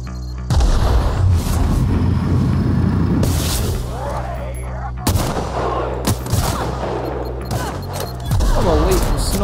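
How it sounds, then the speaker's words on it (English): Sniper rifle fire in the video game The Outer Worlds: several loud, booming shots with long echoing tails, spaced a few seconds apart over steady game ambience, with a voice talking in between. "I just wiped out a whole little settlement with me fucking sniper"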